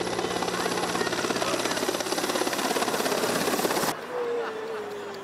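An army helicopter at an airfield, at Petrovec, drones loudly with a steady rotor chop and engine whine, then cuts off abruptly near the end, leaving a quieter hum and a fading tone.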